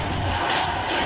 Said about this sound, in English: cheering and yelling Sandy Moore's name, hoping he'll be alright